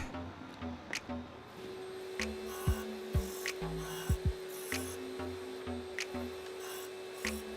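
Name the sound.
power sander sanding wooden Jenga blocks with shop vac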